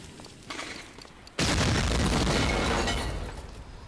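Bomb blast in the Medal of Honor Allied Assault Breakthrough PC game: a softer rumble precedes a sudden loud explosion that roars on with debris and crackle, slowly fading over several seconds.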